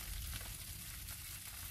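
Steady crackling sizzle of corn on the cob over a barbecue grill, continuous and close, with no voices.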